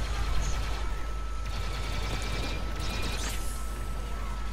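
Blaster fire from a Star Wars Battlefront 2 match, a steady rattling stream of shots over continuous battle noise, loud and close with no pauses.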